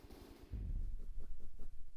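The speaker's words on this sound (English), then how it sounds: "And here come the anti-aircraft missiles." Anti-aircraft missiles launching in the From the Depths naval combat game, heard as a quick series of loud, rumbling thumps and whooshes that begin after a quiet moment and repeat in a rapid, pulsing rhythm.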